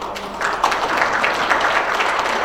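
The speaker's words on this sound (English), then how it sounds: "Give our leaders a clap for that" Audience at a South Asian American Labor Alliance convention applauding its leaders, a dense wash of many hands clapping at moderate distance, steady for the whole moment, with faint voices mixed in.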